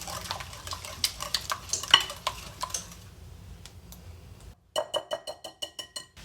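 Eggnog zucchini quick bread batter beaten in a bowl, a quick run of rhythmic scraping clinks for about four seconds, then a short pause and a second burst of sharper, evenly spaced taps against the bowl.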